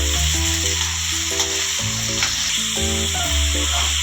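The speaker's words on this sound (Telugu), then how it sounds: "ఉల్లిపాయ లైట్గా ఫ్రై అయిన తర్వాత మనం ముక్కలుగా కట్ చేసి పెట్టుకున్న చిక్కుడుకాయ ముక్కలను వేసుకుంటాం." Chopped broad beans fry with onions in a pan: a continuous close sizzle with occasional stirring scrapes, steady and moderately loud, and no voices.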